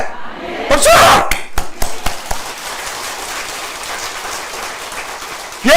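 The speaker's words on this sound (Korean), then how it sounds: "박수!" Church congregation breaking into a short, loud burst of clapping that peaks quickly, then thins into scattered claps and fades into a quiet hall, with a final sharp sound at the end.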